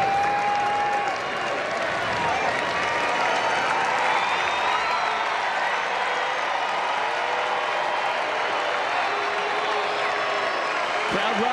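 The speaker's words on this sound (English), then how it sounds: "Crowd rising." Baseball stadium crowd during an Astros at Angels game, ninth inning, a steady loud roar of applause and cheering that swells and holds throughout, with a broadcast announcer talking over it.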